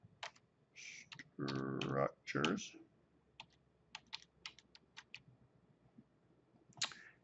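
Someone types a search on a computer keyboard in a SketchUp browser window, with quick bursts of light, close key clicks scattered across several seconds; a voice speaks briefly near the start.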